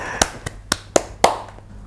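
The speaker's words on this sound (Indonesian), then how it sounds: "tepuk tangan buat Berry" A handful of people clap sharply for a guest at the close of an Indonesian discussion episode, five crisp separate claps spaced about a quarter second apart, near and fairly loud, with no voices over them.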